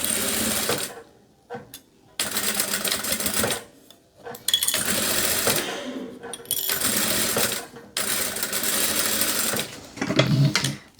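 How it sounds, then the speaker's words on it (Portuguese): A sewing machine stitches the edge of a bandana in a studio, running in loud, steady bursts of several seconds with brief pauses between them. "Agora, a gente vai costurar na pontinha mesmo, igual como a gente fez no outro."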